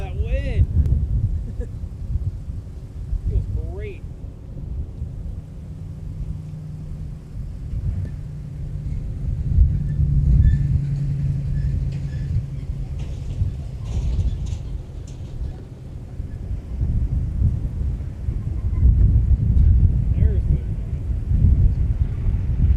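Strong wind gusting at an outdoor plane-spotting spot by MSP airport, a steady loud rumbling roar buffeting the microphone, with distant engine noise and people talking faintly.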